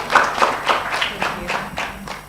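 Conference attendees clap for a speaker at a stakeholder session, a brief round of applause with a few distinct claps standing out, fading slightly toward the end.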